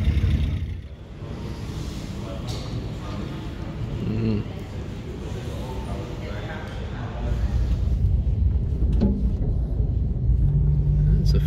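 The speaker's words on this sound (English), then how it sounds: "some carburetor sounds on the Cadet" Opel Kadett with a carburetor engine at the Nürburgring, its rumbling idle and revs carrying steadily for several seconds and growing louder toward the end, with people chatting over it.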